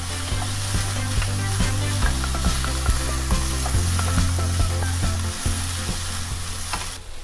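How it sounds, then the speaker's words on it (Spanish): Cooked pot beans are stirred into frying rice, giving a loud continuous sizzle with the scraping of a spoon in the pan and no speech. "vamos a agregar una taza de frijoles de la olla ya previamente cocidos y los mezclamos, los incorporamos bien con el arroz"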